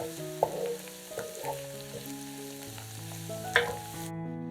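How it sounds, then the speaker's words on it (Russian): Fried mushrooms and onions are stirred in a pan, a gentle sizzle broken by a couple of sharp scraping knocks from the utensil, with faint music underneath before cutting to silence at the end. "Все перемешиваем и снимаем с огня."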